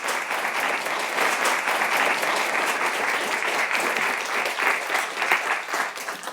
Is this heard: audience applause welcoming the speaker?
yes